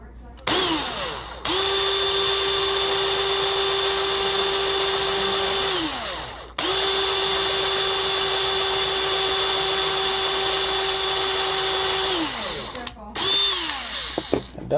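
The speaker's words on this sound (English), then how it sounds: "Alright, I got my drill ready to go," A power drill bores into a Matchbox regular-wheel Pontiac toy car, whirring loudly and steadily in three long runs, each starting with a quick spin-up and ending in a falling wind-down, with short pauses between.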